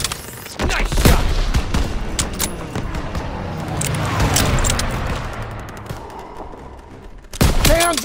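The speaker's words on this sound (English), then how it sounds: "Firing!" Gunfire in the World War II shooter Call of Duty WWII, loud sharp shots and bursts with a boom early on, battle noise rumbling between volleys and heavy shots again at the end.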